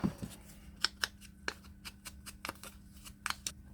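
Scissors cutting paper at a desk, a series of quiet crisp snips and rustles in an irregular rhythm, close and faint with no talking.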